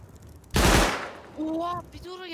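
In the game Rust, a loud burst of gunfire from another player cracks out at close range for about half a second, followed by muffled rumbling and a voice talking.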